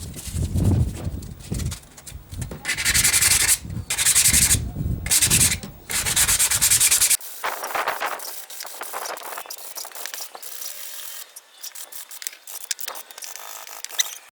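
Sanding reclaimed timber by hand with 120 grit sandpaper, loud rhythmic rasping strokes in bursts for about seven seconds, then quieter, softer rubbing passes.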